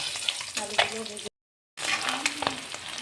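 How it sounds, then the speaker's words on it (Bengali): Potatoes fry in hot oil in a home kitchen as lunch is made, giving a close, crackling sizzle with occasional stirring scrapes. The sizzle cuts out abruptly for a moment of silence midway, then resumes at the same level. "আলুগুলো ভাজা হয়ে গেছে, আলুগুলো তুলে নেব।"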